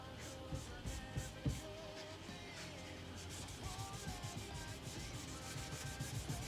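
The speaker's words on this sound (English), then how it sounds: "It says on the pot to rub across the grain" Hand rubbing wood finish across the grain of a bass guitar body, a steady, quiet scrubbing friction with repeated short back-and-forth strokes, close up and without speech.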